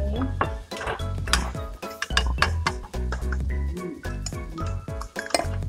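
Rice for nasi goreng is stirred in a metal pan, with a spatula scraping and clinking rhythmically and busily against the pan, close and loud throughout.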